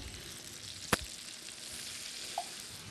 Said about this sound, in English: Here we have cooking our butter and our trout.